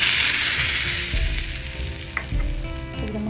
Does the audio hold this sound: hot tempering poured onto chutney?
yes